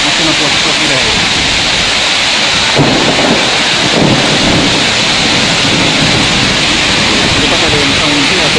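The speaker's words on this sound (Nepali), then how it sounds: "असिनाको साथमा पानी परिरहेको छ।" A hailstorm with heavy rain in Darjeeling's Kurseong area pours as a loud, continuous hissing roar of pelting hail and rain, close and unbroken, with a couple of brief thuds.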